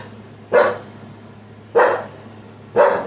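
A dog barks three times at even intervals, each sharp single bark ringing briefly over a quiet, low hum.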